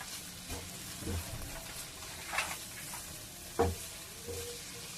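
Soybean chunks stir-fried in an oily pan for chow mein, giving a steady close sizzle with occasional scraping and knocking from the stirring spatula.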